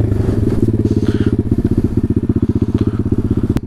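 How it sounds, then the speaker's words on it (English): A Taotao DB17 125 dirt bike with an upgraded carburetor engine braking, its single-cylinder engine giving a fast, steady, loud pulsing putter close to the microphone, with a faint clatter near the end. "Little engine brake right there."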